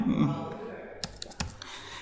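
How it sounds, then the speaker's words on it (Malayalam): A computer keyboard at a taluk-level public grievance adjudication session, with a handful of sharp, separate key clicks in the second half after a moment of murmuring voices and room noise. "നിങ്ങൾ മലയാളത്തിലോ ഇംഗ്ലീഷിലോ എന്തും നിങ്ങൾക്ക് ടൈപ്പ് ചെയ്യാം"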